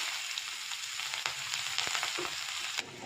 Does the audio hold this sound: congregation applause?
no